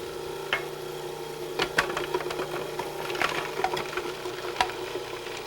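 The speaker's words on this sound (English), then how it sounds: "While the machine is running, drop the shallots into the small feed tube." A food processor with a metal blade runs steadily, mincing parsley while shallots drop through the feed tube, giving a constant motor hum broken by scattered chopping ticks and knocks.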